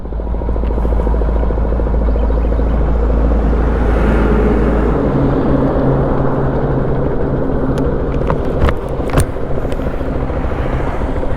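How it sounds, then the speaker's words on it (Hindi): A Hero Xpulse 200 4V motorcycle idles and then pulls away slowly in first gear as the clutch is eased out, a steady close engine rumble with a low drone that cuts out midway, plus a few brief clicks near the end. "अभी फर्स्ट गियर में लगा हुआ है, तो क्लच को धीरे धीरे रिलीज़ करेंगे।"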